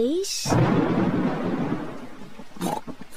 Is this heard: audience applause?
no